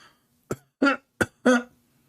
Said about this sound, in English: it's time to cough.